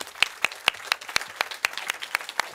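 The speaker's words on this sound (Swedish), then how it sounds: "Tycker vi välkomnar dem upp med en applåd." Live audience applause welcoming two panelists onto the stage at a Swedish elder-care policy discussion, with a steady run of distinct, fairly sharp claps spread across the room and no talking.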